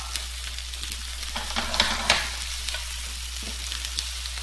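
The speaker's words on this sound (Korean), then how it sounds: "채소 넣고 버섯도 넣고 볶아" Vegetables and oyster mushrooms stir-fry in a pan for japchae pasta, a constant close sizzle broken by scraping strokes and a couple of louder stirring bursts near the middle, with a low steady hum underneath.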